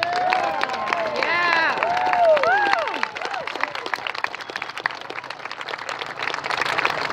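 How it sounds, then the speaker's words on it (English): A crowd at a 155th Gettysburg reenactment breaks into applause and cheering after a Union general's address, with a dense wash of clapping and shouts that fades into scattered claps. "let's give them a big round of applause"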